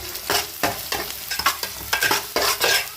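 Ginger garlic paste and green chillies frying in a pan, with a steady close sizzle broken by repeated rhythmic scraping strokes of a ladle stirring.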